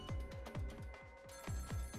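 A telephone rings in the video game Ghost Trick: Phantom Detective, a fast electronic bell trilling in quick repeated bursts at a steady rhythm, loud and clear with no talking over it.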